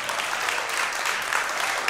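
An audience at a technology conference applauds, a steady dense patter of clapping that is close and fills the whole short stretch.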